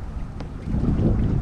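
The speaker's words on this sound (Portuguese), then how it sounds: "7 da manhã e o vento já tá a milhão." Strong morning wind buffets the microphone outdoors on a fishing trip with an ultralight rod, a steady low rumble that swells louder in the second half, with no talking.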